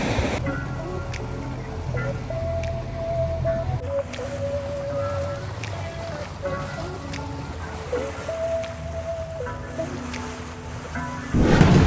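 A tour boat motors across open sea water in the Seychelles, its steady engine hum under wind and splashing waves, with faint voices now and then.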